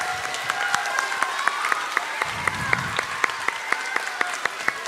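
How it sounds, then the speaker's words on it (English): An elementary school assembly audience applauds for students with outstanding attendance, with sharp, regular claps standing out over a softer wash of crowd clapping and faint murmuring. "A round of applause"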